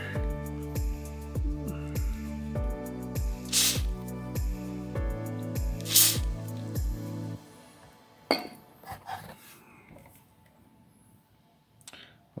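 Short hissing spray bursts of oil hit pop-out window frame parts from a 1966 Ford Econoline van, a few separate squirts heard close up, the first ones over a steady tonal background and the later ones almost alone.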